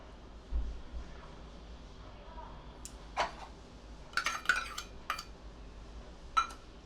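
Two cups of fine semolina and a cup of yogurt get stirred together in a bowl, with scattered spoon clinks and scrapes over a quiet room background.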